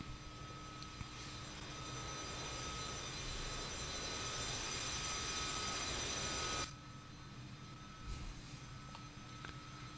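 A FlyJSim Boeing 727 in X-Plane 11 runs its engines with a loud, steady jet roar and whine that cuts off sharply partway through, leaving a quieter engine hum.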